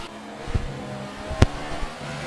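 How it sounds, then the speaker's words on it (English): A race car engine in a Formula-style racing video game held at full revs, a steady high whine with two sharp thumps breaking through, fairly loud and without talk. "his car's revving at full revs at the moment, because it's AI mode"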